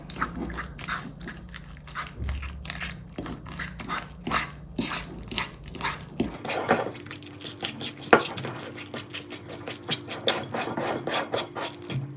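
Syrnyky batter of cottage cheese with egg and a pinch of salt is stirred in a bowl, the spoon scraping and squelching in steady repeated strokes, close and moderately loud with no talking.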